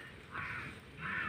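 Two harsh crow caws on a rainy day in a village, one short and one trailing off, moderately close with no talk over them.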